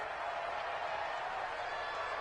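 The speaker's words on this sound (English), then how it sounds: "And the crowd getting into it as we come up on a big 3rd down." A football stadium crowd in a Bears versus Packers game roars steadily before a third down, a dense, even wash of cheering and applause heard from a distance.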